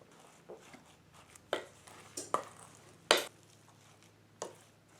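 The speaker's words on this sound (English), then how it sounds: "This is taking some real strength to mix." Stiff oatmeal raisin cookie dough being worked in a bowl, scattered thuds and scrapes of a spoon against the bowl at an irregular pace, close and fairly quiet.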